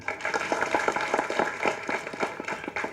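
A crowd claps in sustained applause, with dense overlapping hand claps at a steady level and no voices standing out.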